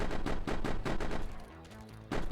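Boss in the game 1st Core The Zombie Killing Cyborg fires rapid bullet bursts, a loud, dense run of gunshots that breaks off midway into a short lull before resuming.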